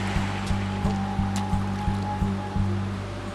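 A river's main stretch rushes continuously close by, broadband water noise overlaid with a steady low rhythmic pulsing hum repeating about every third of a second.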